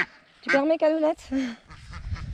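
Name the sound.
Rouen duck quacking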